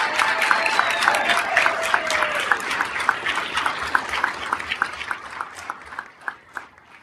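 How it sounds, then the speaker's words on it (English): Applause from an audience, steady clapping with a few sharper claps standing out, fading slightly toward the end. "Let's give a round of applause to the team and their coaches."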